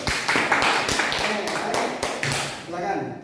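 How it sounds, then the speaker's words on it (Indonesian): Classroom students clap for a presenting group, a loose burst of many hands at close range lasting a few seconds before fading out, with a teacher's voice speaking over it. "Tepuk tangan untuk kelompok 1."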